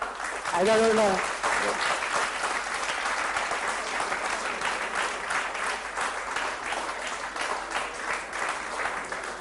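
Students in a lecture hall clapping at the end of a calculus class, a sustained dense round of applause with a brief voice at the start, steady and fairly close throughout.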